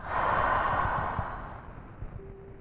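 A long, deep breath drawn in during a yoga session, a close, airy rush lasting about a second and a half before fading into quiet.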